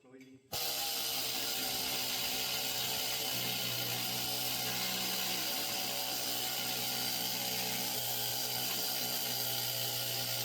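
Loud, continuous air-powered rattling of a new pneumatic needle scaler working over weld seams, starting abruptly after a brief quiet moment and holding steady and close throughout.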